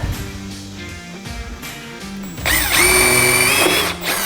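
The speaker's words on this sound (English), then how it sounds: "Now it drills out extremely easy" A power drill with a 3/32 bit bores a pilot hole for a Bronco LED tail light install; faint clicks and short bursts come first, then the motor spins up loud and close, whining steadily for a couple of seconds before easing off.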